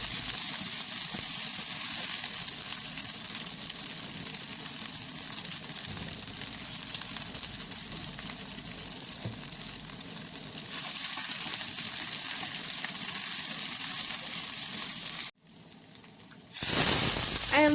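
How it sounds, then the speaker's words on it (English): Garlic and ginger paste fries with onions in a pan, giving a steady, broad sizzle that runs most of the way through. Near the end it cuts out briefly and then returns louder. "I'm going to add my garlic and ginger paste and cook that for some while"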